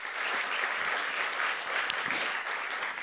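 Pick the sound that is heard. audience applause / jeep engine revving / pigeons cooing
audience applause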